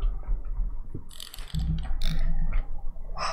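A light in a horror video game makes a mechanical noise, a series of ratcheting, grinding clicks and clanks in irregular bursts over a low hum, fairly loud and close, with no talk.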